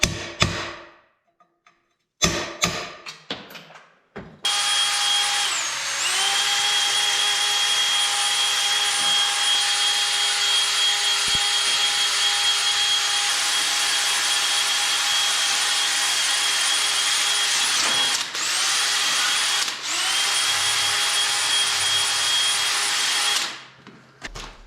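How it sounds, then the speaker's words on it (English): A power saw cuts bolts off a New Idea manure spreader under rebuild, its blade worn nearly to melting. A few knocks open, then a loud, steady high whine runs for about twenty seconds with brief dips before stopping. "Got some more to cut off here, a bunch there. My saw blade was actually starting to pretty much melted."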